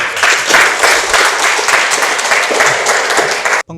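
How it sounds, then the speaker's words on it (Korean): A ceremony audience applauds at a 2020 Korean health and medical technologists' day event: dense, steady clapping from many hands, loud and continuous for several seconds before cutting off abruptly. "방금 인사해 주셨던 우리 8개 단체 회장님께 다시 한번 큰 박수 부탁드립니다"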